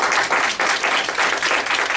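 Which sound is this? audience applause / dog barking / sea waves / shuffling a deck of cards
audience applause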